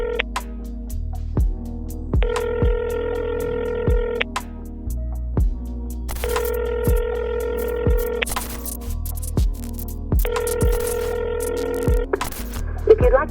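A telephone line gives steady dial and busy tones, with repeating bursts of ringing tone in three separate spells, loud and close, no talk over them.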